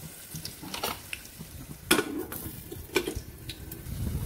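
Garlic frying in a pan until lightly reddened, with a faint steady sizzle under occasional clinks and scrapes of a spoon against the pan, close and with no voices.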